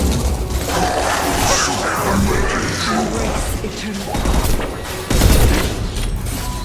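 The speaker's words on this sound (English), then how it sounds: "Look out! Taking heavy fire!" Heavy gunfire in the Mass Effect 2 video game: a dense, loud, continuous barrage of shots and crashing impacts, swelling into a harder burst near the end.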